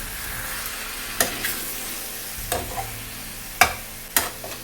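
Chicken meat sautés in released oil in a pot for chicken rice, giving a steady low sizzle, broken by four sharp scraping clatters of a spatula spaced about a second apart, with no talking.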